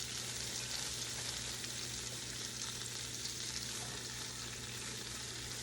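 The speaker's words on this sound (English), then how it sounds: "Now I'm going to add more cabbage." Cabbage sizzling in a hot pot while being steamed, a steady, even frying hiss with no talk.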